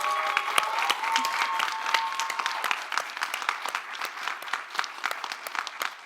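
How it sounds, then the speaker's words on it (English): Audience at a youth poetry showcase claps in sustained, dense applause, many hands at once, fairly close and steady throughout with a few faint voices mixed in. "Let's give a round of applause to everyone"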